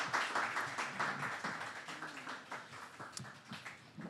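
A French-speaking audience applauds a professor at a talk, a steady wash of clapping from a crowd of moderate size at middle distance, with faint voices mixed in.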